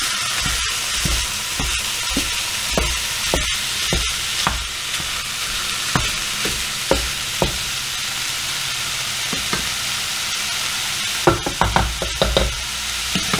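Ground beef sizzles steadily in a skillet as it browns, with scattered scraping knocks from a utensil chopping and stirring the meat, loud and close with no talking.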